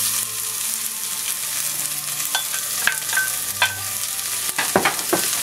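Chopped onions hit hot oil in a pot over medium-high heat, giving a steady close sizzle with a few sharp clinks of a utensil scattered through.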